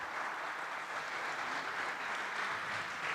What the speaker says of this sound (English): a big round of applause to my panelists for today